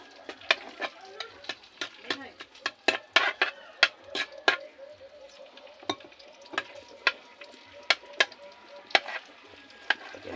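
Squid adobo ingredients fry in a pan, with clicks and scrapes from stirring and utensils knocking against it over a steady, soft sizzle.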